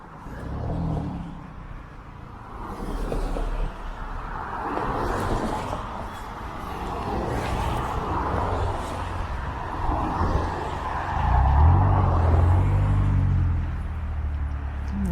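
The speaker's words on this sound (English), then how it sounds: "Looks like we actually have a traffic jam here" Steady low rumble of road traffic in a winter city ravine in Toronto, cars idling and creeping in a jam near a bridge, with a heavier engine swell late on; continuous and moderately near, no talking.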